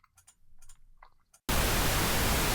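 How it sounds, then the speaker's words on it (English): Faint scattered sounds give way abruptly to a loud, steady hiss of pink noise test signal that holds constant to the end. "So pink noise is covering the whole range of sounds."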